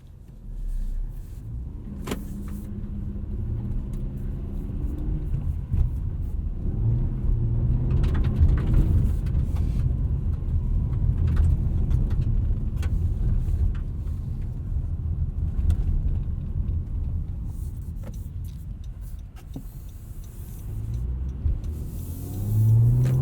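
A 2016 Honda Accord V6 coupe with a six-speed manual accelerates hard through second gear on snowy, damp roads, its engine a steady, close rumble that swells and holds, with a brief shift and a window motor sound near the end.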